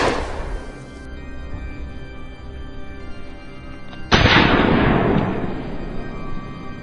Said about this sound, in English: A barrage of gunfire rang out, each shot tracking the beast's every stride.